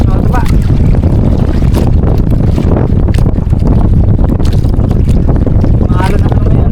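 Rough sea and strong wind batter a fishing boat, a continuous loud roar of wind and water with splashes throughout, and a voice speaks over it.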